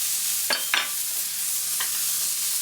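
An Impossible Burger patty is flipped in a hot pan: two quick scraping clatters of the spatula, a fainter knock, all over a constant bright hiss of sizzling.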